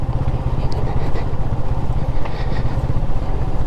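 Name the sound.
Honda CB250RS motorcycle engine braking in second gear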